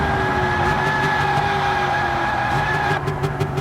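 A 1966 Shelby Cobra in Gran Turismo 7 droning at steady high revs at top speed in fourth gear, then tires squealing under hard braking lockup near the end.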